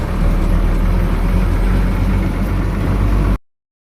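Tractor engine running close by, a loud steady low-pitched rumble at constant speed that cuts off abruptly near the end.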